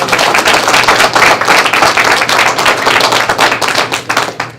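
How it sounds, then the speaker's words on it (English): A school district board meeting audience gives a loud, steady round of applause, many hands clapping densely for several seconds before it thins out near the end. "Let's give him another round of applause"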